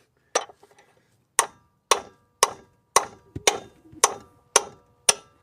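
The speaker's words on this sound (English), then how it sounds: "So I've got my big lump hammer and I'm going to hit it with a hammer, try and loosen it." Lump hammer blows ring out against a car's oil drain fitting, eight sharp metallic strikes at a steady, fairly quick rhythm, close and loud, each with a short ringing decay and no talk.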